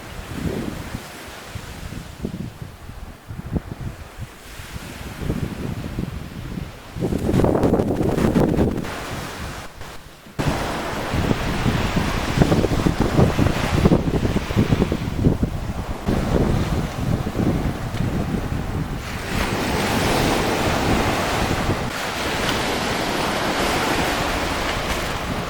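Ocean waves crashing on a shore with wind buffeting the microphone, a continuous loud surf roar with surges and heavier breaking bursts, no voices.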